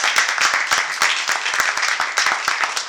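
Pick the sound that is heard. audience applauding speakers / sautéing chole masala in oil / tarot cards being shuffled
audience applauding speakers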